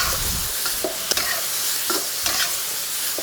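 Beef and potatoes stir frying in a wok with a splash of chicken stock, a steady soft sizzle broken by a few sharp scrapes and clinks of the spatula, alone without talk.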